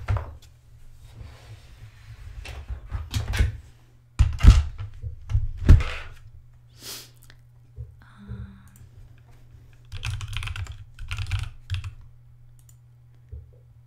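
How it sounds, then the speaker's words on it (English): Computer keyboard keys clatter in short irregular bursts, fairly close, with a few heavier thunks and clicks between pauses in a quiet room during a livestream. "Let me grab my keyboard."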